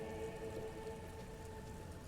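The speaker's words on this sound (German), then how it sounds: "Es regnet." Steady rain falls in the video game Disco Elysium, a soft, even patter with a faint tonal background hum throughout, quiet and continuous with no voices.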